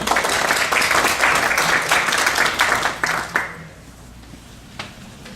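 An audience at a project kickoff meeting gives a speaker sustained applause that is strong at first, then fades out after about three seconds, leaving a quiet room with a stray clap.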